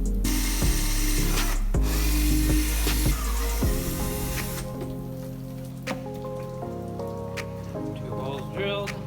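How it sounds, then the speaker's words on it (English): A power drill boring two holes to mount a standard battery tie-down, loud whirring bursts with speed changes and short pauses, close up in a workshop. "Two holes drilled."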